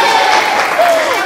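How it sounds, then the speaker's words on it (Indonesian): A classroom group in a high school biology lesson claps in a short, loud burst of applause, with voices calling out over the clapping. "kita beri tepuk tangan untuk kita semua"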